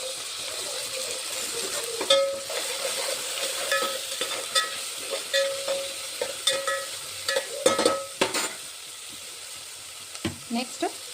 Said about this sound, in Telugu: నెక్స్ట్ టమాటా ముక్కలు వేసుకోవాలి